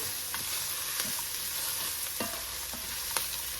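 Celery and carrots sizzle and fry in a pot for a pasta e fagioli soup, a steady close hiss with light stirring scrapes and occasional clicks, no talking.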